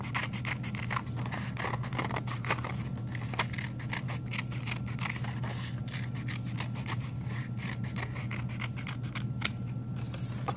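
Scissors cutting through folded paper for a snail craft, a continuous series of crisp, rapid snips close by over a steady low hum.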